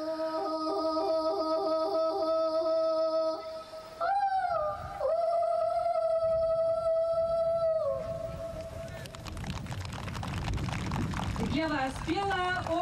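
A voice imitates the call of a Siberian crane with a series of drawn-out, clear tones and sliding pitch leaps, some calls held level and others bending upward, over a soft rushing background.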